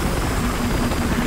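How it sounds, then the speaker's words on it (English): A loud, steady video game helicopter rotor thrum fills the moment, close and continuous with a pulsing low beat. "their chopper's up"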